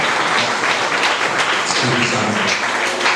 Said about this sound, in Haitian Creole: Vous applaudissez bon Dieu pour ça? On applaudit bon Dieu.